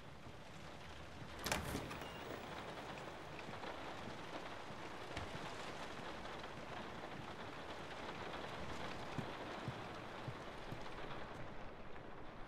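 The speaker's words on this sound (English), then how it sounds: "The sound of rain is really cool." Steady, soft rain in the video game The Last of Us Remastered patters continuously in the background, with a brief sharper burst near the start and no voices.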